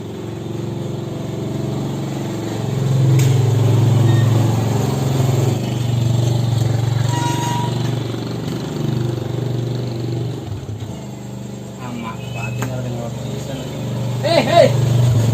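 A motorcycle engine idling and running low and steady nearby in a casual street scene, its rumble swelling slightly midway, with people talking over it throughout.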